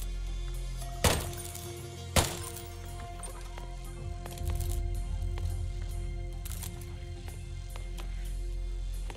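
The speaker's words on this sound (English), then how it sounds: "Actually shoot that light." Gunshots shooting out a light in the action game Intravenous, two sharp loud bangs followed by a crackling, shattering burst and steady game ambience with no talk.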